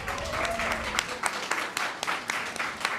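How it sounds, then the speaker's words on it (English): An audience claps steadily and fairly evenly at a talk on infant mortality in Northeast Ohio, with the applause moderately loud and lasting the whole stretch. "Clap for my team."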